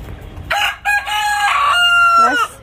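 A rooster in a home garden gives one loud, close cock-a-doodle-doo, a drawn-out crow of about two seconds that rises and then trails off, with no voices over it.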